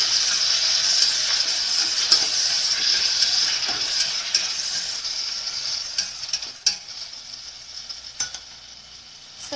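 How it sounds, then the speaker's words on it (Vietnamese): Pork ribs stir-fried with garlic in a pan give a steady, bright sizzle with scraping and clinks of a utensil stirring through, close and fairly loud with no talk. "Mình xào cho cái sườn của mình nó săn lại á các bạn."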